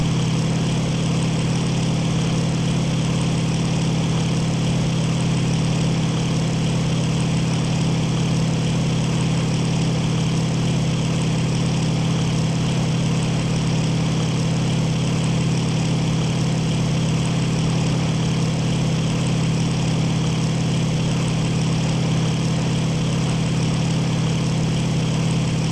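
Piston aircraft engine in the IL-2 Sturmovik 1946 flight game, set during an attack on Pearl Harbor: a steady, loud, unbroken drone with a strong low hum, running alone for about twenty-six seconds with no change in pitch.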